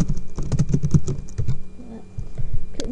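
Quick bursts of typing on a computer keyboard, close and clicky, come in an irregular run, pause briefly, then resume with a few more keystrokes.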